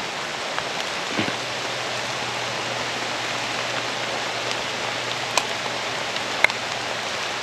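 Light rain falls steadily on a farm field in Montalban, a soft continuous hiss with a few faint drips standing out, with no voices over it.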